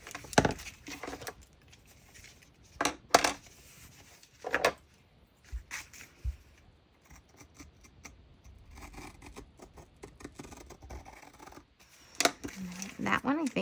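Scissors snip through decorative washi tape while setting up a journal, giving a few sharp isolated clicks and crisp cuts scattered through quiet moments, close and fairly soft, with some light handling sounds between them.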